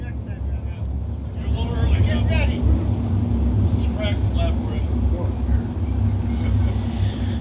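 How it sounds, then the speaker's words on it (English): Sprint cars idle and rumble together as they roll four abreast in a parade salute before a dirt-track race, a low, throaty engine drone building slightly louder, with occasional crowd noise and faint voices in the background. "One of the greatest sights in motorsports, the Sprint Car 4 Wide Salute."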